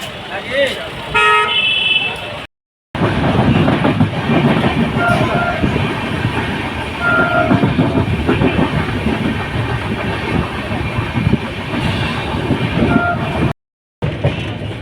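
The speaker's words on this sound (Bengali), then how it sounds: "আমরা সবাই ট্রেনে উঠে গেছি" Passenger train at a railway station during a group trip to Sikkim, with a steady rumbling rolling noise and faint clatter throughout, voices talking over it and two brief dropouts.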